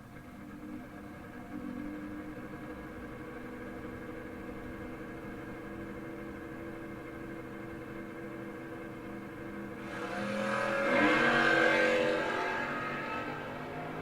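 Drag race cars, a yellow Chevrolet Blazer and a Camaro, launching at a strip, heard as a distant low engine rumble that swells loudly near the end and then eases off, without any talk.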